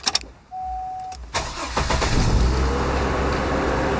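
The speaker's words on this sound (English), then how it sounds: "So I guess now we'll start the car" A car's engine cranks with a whirring starter after a short chime, then catches and settles into a steady, fairly loud idle.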